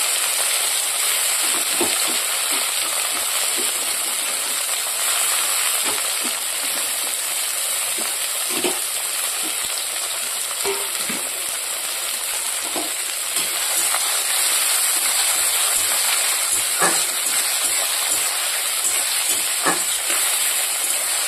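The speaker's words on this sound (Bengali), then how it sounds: "পেঁয়াজ লঙ্কাটা আমি ভেজে নেব পাট শাকের ঝোল বানানোর জন্য" Onions and chillies fry steadily in hot oil, a constant close sizzle and crackle with occasional soft stirring taps throughout, no voices.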